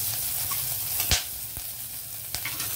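Onions sizzling in hot oil in a pan, a steady close crackling hiss with a few sharp clicks and pops standing out, no voices.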